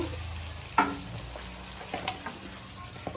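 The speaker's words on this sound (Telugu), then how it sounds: "రెండు బాగా ఎర్రగా వేగింది అల్లం వెల్లుల్లి పేస్ట్." Ginger garlic paste fries in a pot for fish curry, giving a quiet, steady sizzle broken by a few soft scrapes and stirring knocks.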